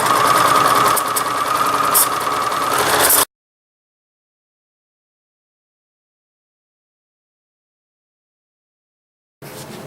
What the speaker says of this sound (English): I'm going to sew all the way around the lining to the back and leave a nice